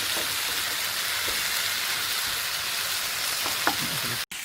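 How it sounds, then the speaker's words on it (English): Onions and tomatoes for a chicken masala fry in a pan with a dense, continuous sizzle, close and fairly loud, with occasional stirring taps and no talk. "Now we can see the onions and tomatoes softening"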